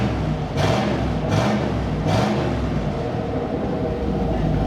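A 1979 Camaro V8 barn find with a loud, coarse idle, blipped through three short revs, each a brief surge over a steady rumbling base with no one talking.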